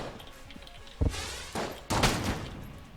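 A blunderbuss charge weapon fires in the Enter the Gungeon video game, with three separate loud blasts at roughly half-second gaps, each a sharp boom with a short ringing tail, heard alone over a quiet background.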